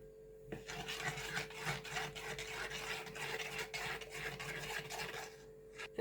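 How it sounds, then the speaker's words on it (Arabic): A spoon stirs a cold cornstarch and milk mixture in a pot, giving a steady, close scraping and rubbing sound that continues throughout with no talking. "هنبدا بقى كده نقلب الخليط"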